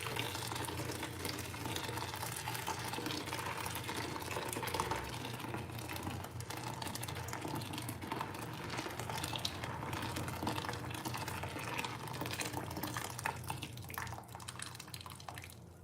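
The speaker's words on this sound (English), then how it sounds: "The water needs to be boiling, okay? 2 liters of water, guys. Boiling hot, really boiling." Two liters of water at a full boil in a small pot, bubbling and seething steadily, a continuous low rumble with fine crackling drips, fairly quiet and unbroken throughout.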